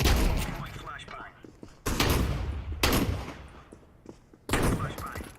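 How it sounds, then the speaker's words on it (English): Bursts of explosive bangs from a first-person video game as a flashbang grenade goes off, four sharp, loud blasts spaced a second or two apart, each trailing into a short rumbling decay. "Throwing flashbang."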